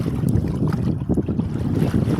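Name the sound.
strong wind on Narmada river by boat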